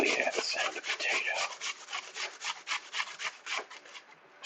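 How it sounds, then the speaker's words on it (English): Raw potatoes scraped against a grater for hash browns give a close, repeated rasping rhythm, dense at first and then settling into evenly spaced strokes. "the sound of potato"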